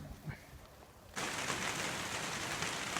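Sudden heavy rain starts pouring outdoors in Yakutsk beside a hot fish smoker, jumping from quiet background to a dense, loud, steady hiss of falling water.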